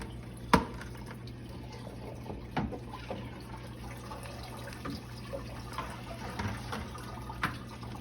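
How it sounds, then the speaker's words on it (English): Water drains and drips from a filter media cup holding large carbon pieces in a Rapid Rinse filter, giving faint scattered drips and a few sharper splashes over a steady low hum. "Let them drain a little bit."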